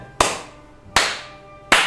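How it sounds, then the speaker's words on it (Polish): Three sharp, single hand claps, evenly spaced and close by, ring out alone with a short decay during an Anno Online game stream. "Wielkie brawa!"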